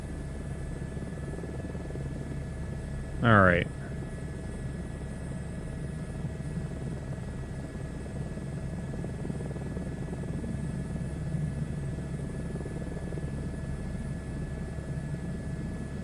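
A helicopter flies in a VR video game, its steady low rotor drone continuing throughout the clip, with one brief spoken word near the start.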